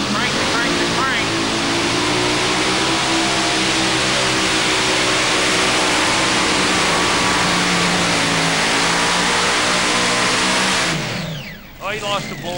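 A modified pulling tractor with a Hemi engine and blower roars at full throttle through a pull run at the 2008 NTPA championship in Bowling Green, Ohio, loud and sustained, then drops off abruptly near the end with a commentator's voice over it.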